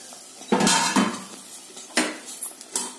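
Metal spoon scraping and clinking against a pan as grated coconut is stirred into a thick barfi mixture, a few distinct close scrapes and knocks with quiet gaps between.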